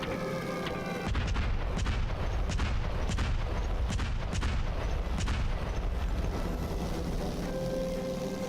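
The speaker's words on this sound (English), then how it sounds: "Freaking cluster bombing is the way to go." Cluster bombing in a video game, a rapid string of heavy booming explosions rolling one after another over a low rumbling bed, loud and dense for several seconds, without any talking.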